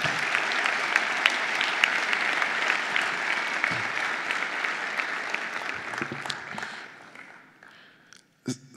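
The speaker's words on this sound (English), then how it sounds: "So give her a round of applause" A forum audience at a college assembly hall gives sustained applause, a dense, even crowd clapping that fades out near the end before a few loud knocks or handling bumps.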